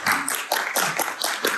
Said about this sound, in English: Applause for Sarah.